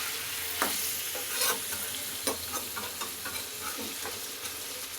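Goat meat being stirred in a cooking pot, scraping and sizzling in a steady, fairly loud run of strokes with no talk over it.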